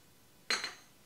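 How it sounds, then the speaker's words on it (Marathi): A single short clink as garlic, green chillies and other ingredients drop into a mixer jar, one brief metallic tap against a quiet background. "आता हे सगळी जिन्नस आपण या मिक्सरच्या भांड्यात काढून घ्यायची."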